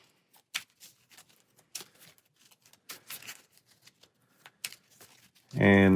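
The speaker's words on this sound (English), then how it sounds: "So we'll give that a final shuffle." Arkham Horror card game encounter deck cards are riffled and shuffled in a quick series of crisp, faint flicks and taps, with a sudden loud burst at the end.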